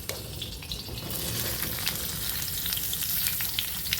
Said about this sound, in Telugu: ఆయిల్ వేడయ్యాక ఈ కాకరకాయ ముక్కలను అందులోకి వేసి ఫ్రై చేసుకోవాలి